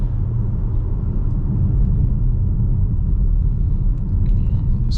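A black 2023 VW Tiguan SE R-Line cruises along a road, giving a steady low rumble of tyres and engine from inside the cabin that holds level throughout, with a few faint ticks near the end.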